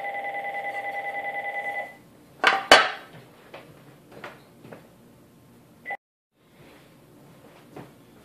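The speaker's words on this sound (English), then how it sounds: "it's almost impossible to make a YouTube video without a phone going off" A cell phone rings with a steady repeating electronic tone for about two seconds, then stops, followed by scattered clatter and handling knocks from an aluminum router case being taken apart on a workbench.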